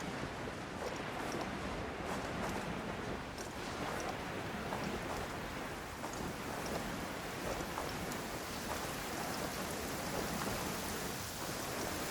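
Heavy rain downpour in the video game Genshin Impact, a dense steady roar of falling water that stays loud and unbroken throughout, with no voices.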